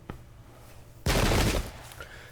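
Musket volley fired in a Thirty Years War strategy video game battle at Wimpfen: a single loud, crackling burst of massed gunfire erupts midway and lasts about half a second, then tails off into quieter battlefield ambience.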